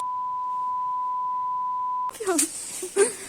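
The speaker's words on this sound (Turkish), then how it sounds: "Küfürlü yerlere sansür koyarım merak etmeyin bip diye." A steady censor bleep, a pure sustained tone, runs alone for about two seconds covering swearing, then cuts off as excited voices and laughter take over.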